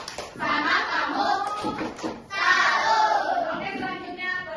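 An elementary school class in Indonesia does a rhythmic patterned clapping cheer, many children clapping together in bursts, with children's voices chanting along.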